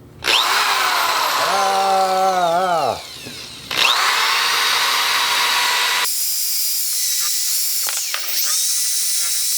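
A wire brush spun by a power drill scrubs an aluminum water pump from a Honda VFR motorcycle, whining loudly with pitch sweeps as the motor speeds up and slows, pausing briefly before grinding on.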